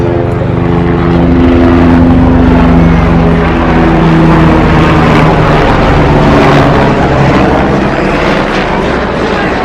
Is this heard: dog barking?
no